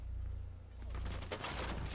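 Burst of rapid gunfire in Rainbow Six, faint and somewhat distant, rattling over a low background rumble in the game.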